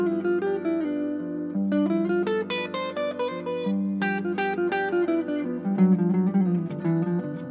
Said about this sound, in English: That's called the G Mixolydian sound, or just the Mixolydian mode.